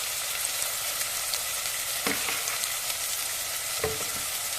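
Onion tomato chutney with salt and turmeric being stirred in a pan, a steady broadband sizzle with two distinct scraping strokes of the spoon, close and alone without talk.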